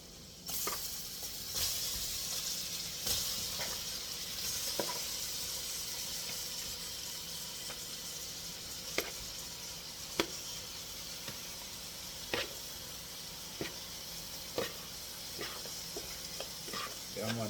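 Chicken gizzards fry in a pan for a Jamaican curry, a constant close hiss and sizzle broken by sharp clicks and scrapes as they are stirred, at a fairly quiet level.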